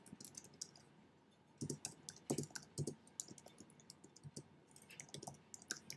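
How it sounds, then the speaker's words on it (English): Computer keyboard being typed on at home, quiet clicking keystrokes arriving in irregular bursts with brief pauses between them. "I'm just typing something."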